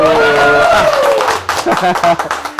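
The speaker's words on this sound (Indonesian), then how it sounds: "Kasih tepuk tangan dulu." A studio audience on a disaster-management talk show breaks into short, fairly close hand clapping after a voice speaks, the claps coming as a quick uneven run.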